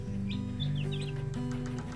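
Cornish cross meat chicken chicks give high, quick chirps and peeps close by, several overlapping calls over a low steady hum.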